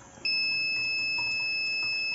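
A buzzer on a DIY Android-controlled water pump starter switches on abruptly and holds a steady, loud, piercing electronic tone.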